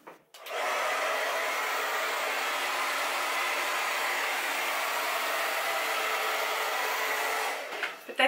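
A hair dryer runs steadily at full power for several seconds while long hair is blow-dried with a large round brush, a loud close whooshing roar that clicks on and cuts off at the end.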